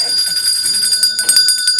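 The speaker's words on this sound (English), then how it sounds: "When you hear the bell, that means either a reader is going to start, or we are going to move on to the next spot" A hand bell rung at a literary crawl reading event, giving a sustained, bright ringing with steady overtones and repeated strikes throughout, fairly loud and close, with faint crowd murmur beneath.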